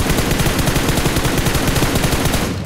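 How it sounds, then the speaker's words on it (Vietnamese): Rapid automatic gunfire aimed at an airplane in the mobile shooter game PUBG Mobile, a loud continuous burst of fast, evenly spaced shots that cuts off at the end. "Bắn nổ cái máy bay này luôn."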